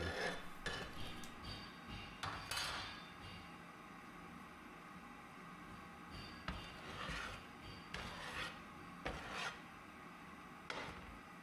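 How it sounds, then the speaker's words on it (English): A large metal ruler scrapes excess casting sand level in a brass-casting flask, with faint gritty rasping strokes and light clinks at irregular intervals, low and close in a quiet room. "I am scraping off any excess material with a large metal ruler"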